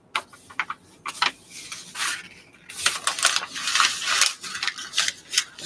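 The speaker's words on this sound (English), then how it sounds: "I'm going to crumple this up and get it ready to burn." Paper being crumpled up by hand before burning, a series of close, crisp crackling bursts and rustles of varying loudness spread across several seconds.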